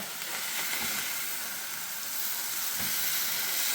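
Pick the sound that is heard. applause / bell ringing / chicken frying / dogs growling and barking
chicken frying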